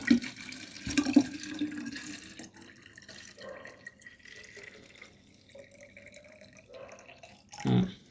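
Water runs and trickles into a one-litre bottle for hatching brine shrimp eggs, with a few clunks and a louder splash or knock near the end; fairly quiet overall.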